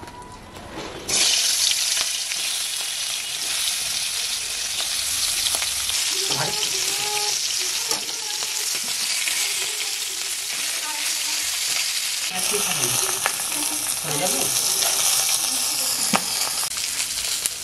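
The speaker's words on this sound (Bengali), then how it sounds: "এবার আমার মাছের মাথা কড়া করে ভেজে নিয়েছি।" A hilsa fish head frying in hot oil gives a loud, steady, close sizzle with crackles, intensifying after a brief quiet start and continuing without pause.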